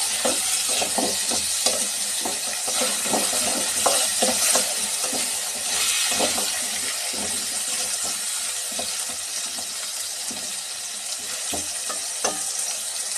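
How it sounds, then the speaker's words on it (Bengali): Potatoes frying in a pan with salt and turmeric, a steady close sizzle broken by repeated scraping and stirring strokes, with no voices throughout. "দিচ্ছি সামান্য লবণ, আর দিচ্ছি সামান্য হলুদ গুঁড়ো। ভালো করে আলুটা ভেজে নেব।"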